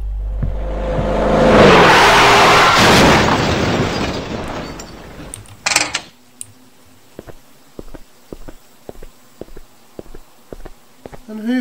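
A car crashes in the horror video game Teke Teke: Moonlit Dread at a convenience store at night: a loud, rumbling crash swells over several seconds and ends in a sharp impact, then a steady series of nearby footsteps follows alone.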